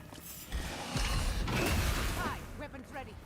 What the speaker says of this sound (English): Yep, door closed, okay.